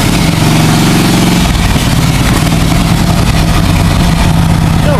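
A 20-horsepower Kohler engine on a mower runs loud and close, a throbbing low rumble with a steady idle rhythm after a brief rougher start.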